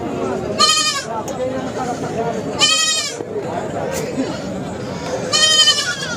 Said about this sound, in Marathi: लहान लहान करड आहेत काही शेळींचे आहेत काही मेंढीचे आहेत